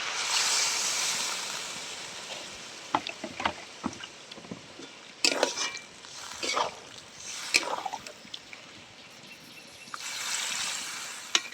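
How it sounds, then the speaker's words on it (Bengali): Water splashes into a pan of Bengali jackfruit and prawn curry, a steady watery rush with irregular louder splashes and gurgles through the middle, close by and without talk. "আমি এবার পরিমাণ মতন জল দিয়ে দিচ্ছি"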